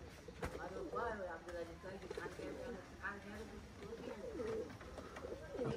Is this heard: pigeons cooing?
yes